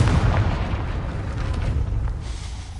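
A Confringo blasting spell bursts in Hogwarts Legacy, a deep rumbling boom with crackling debris that stays loud and fills the whole stretch before slowly thinning out.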